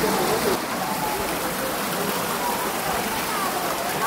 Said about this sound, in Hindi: यहाँ पर गौमुख से पानी आता है और ये कुंड है।